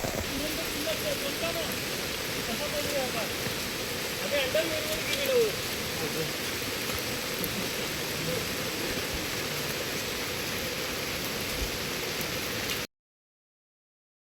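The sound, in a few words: heavy rain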